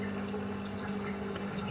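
Water pumped into an aquaponics grow bed as the flood cycle restarts after a bell siphon stops, a steady low trickle and pump hum, faint and unbroken.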